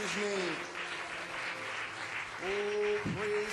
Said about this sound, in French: Just give him one more hand.